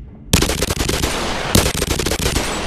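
Rapid automatic fire from an MP5 submachine gun mod in the VR game Bonelab, two loud sustained bursts of closely spaced shots with a brief pause between them, no talking.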